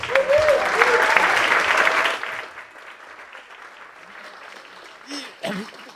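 Audience applause at a fundraising dinner for a cookstove project, loud and dense with voices over it, breaking off after about two seconds and leaving thin scattered claps and murmur.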